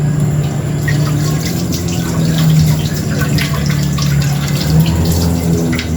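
Water runs steadily from a kitchen faucet while a meal is being cooked, a continuous close splashing hiss with no pauses.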